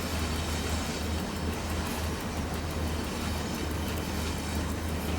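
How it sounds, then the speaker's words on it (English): A Pendolino train rushes past in the rail simulator SimRail, a steady loud roar of wheels and rumbling wagons holding constant for several seconds with faint rhythmic clatter, no voices. "Pendolino passing."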